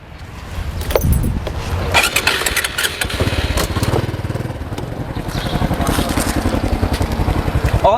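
A motorcycle engine starts and then runs steadily close by, a loud continuous rumble with a regular throbbing pulse that holds for several seconds.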